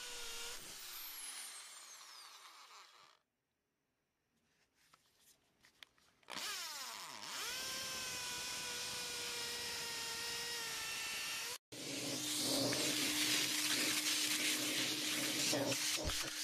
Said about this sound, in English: Use the 5/16 masonry bit for the holes in the cement floor